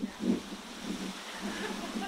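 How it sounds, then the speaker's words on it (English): Gusty wind blows outdoors by a car garage in Colorado, a steady low rumble that swells in soft buffeting pulses against the microphone for a couple of seconds. "So it's a little windy"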